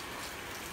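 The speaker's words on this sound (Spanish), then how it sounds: "Hay una lluvia por este momento. Amaneció lloviendo." Steady rain falls at dawn over a residential neighbourhood in San Miguel, a dense, even hiss of drops with no talk during the brief stretch.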